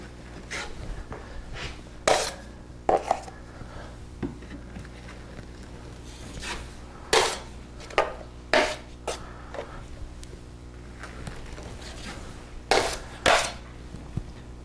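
A metal drywall knife scooping joint compound mud from a pan and spreading it, with sharp scraping clicks and knocks in irregular bursts over a low steady hum, close by with no talk.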